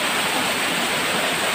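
Wawa waterfall in Rodriguez, Rizal, rushing water roaring as a steady, loud, close broadband wash with no break.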